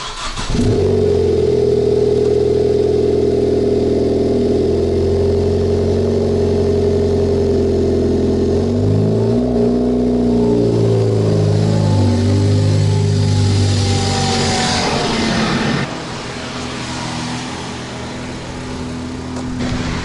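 A Ford Focus ST engine idles deep and loud through its exhaust, then revs up and down in several rising pulls before settling back to a lower rumble.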